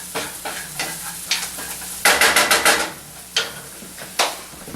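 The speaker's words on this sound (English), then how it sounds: "So now I'm going to add the garlic to this. Okay? Give that a nice stir in." Garlic sizzling in a pan while being stirred, a soft continuous fry beneath a series of sharp scraping and tapping strokes from the utensil, several in quick succession at the middle.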